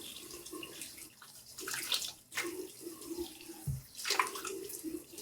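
Water from a bowl splashes as someone rinses their face after a safety razor shave, soft irregular splashes and trickling with small pauses, close and fairly quiet.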